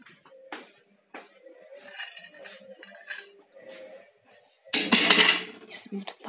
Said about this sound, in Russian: Сейчас буду посуду тут надо убрать.